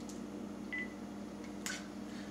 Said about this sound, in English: I'm getting another phone call